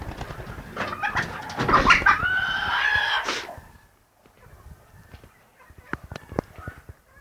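Young chickens and a this-year's rooster, Atak cross breed, in a backyard flock; a burst of loud squawking and clucking in the first few seconds, then quieter scattered pecks and scuffles.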